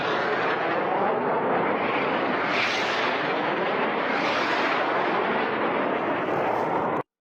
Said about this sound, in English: Numerous videos of Tomahawk missiles being launched and flying over the countryside.